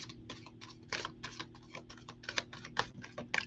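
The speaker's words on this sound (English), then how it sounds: "give it a shuffle here and see if anything jumps out at us." Tarot cards being shuffled up close, a rapid run of crisp clicking and flicking bursts with no talking.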